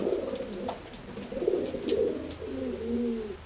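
A pigeon coos close by in a short series of soft, low, throaty calls that rise and fall, with light handling noise and no voices.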